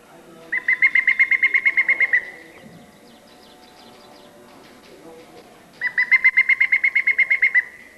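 Repeated bursts of red-eyed vireo song in the Algonquin Park canopy, two rapid trilling runs of bright high notes separated by a quieter pause, fairly close and clear over faint background.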